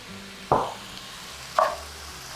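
Tomato paste hitting a hot cast iron pot for a lamb and pea stew gives three short, sharp sizzling bursts spaced apart over a quiet kitchen background.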